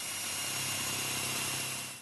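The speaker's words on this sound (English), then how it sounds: "This is a portable drill press." A portable drill press guiding a hand drill drills steadily into lumber while building an outdoor tree house, a loud continuous motor whine with a low hum that holds for about two seconds and then begins to fade.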